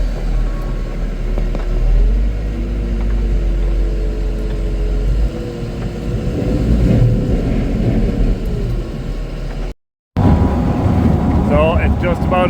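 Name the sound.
chopper machine with auger chopping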